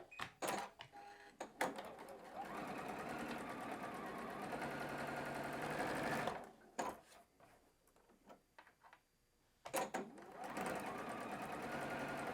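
A sewing machine runs fast, stitching the seams of a quilt block with a scant quarter-inch seam allowance, in steady close mechanical bursts broken by short pauses and a few quiet gaps.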